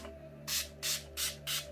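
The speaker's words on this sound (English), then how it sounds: "Now we'll do a little touch of setting spray and we'll be done." Makeup setting spray misted onto a face, four quick, evenly spaced pump sprays, each a close, sharp hiss lasting a fraction of a second.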